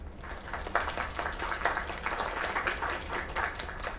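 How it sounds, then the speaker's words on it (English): Applause from the audience at a school talent show in the video game Lake, a steady wash of many hands clapping with rhythmic surges, moderately loud and continuous, with no voices over it. "Another round of applause."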